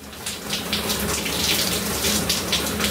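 Steady hiss of water streaming from an electric heated shower, a close, continuous spray that holds at the same level throughout with no voices.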